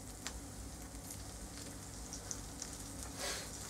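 A sandwich toasting in a frying pan gives a faint, steady sizzle with a few small pops, quiet and continuous throughout with no talking.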